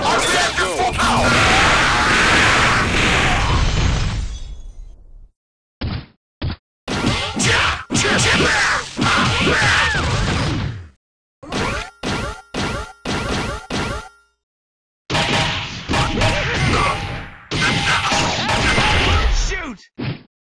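Iron Man sound-patch effects for smart bomb and repulsor blast: loud bursts of blasts, whooshes, clangs and impacts in separate rapid bursts, with pauses between them.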